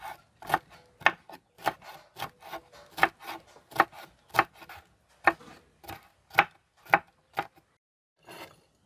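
Knife chopping onion, garlic and cilantro on a board: a steady run of about fifteen crisp, close chops in an uneven rhythm, each one distinct, with quiet gaps between and no talking.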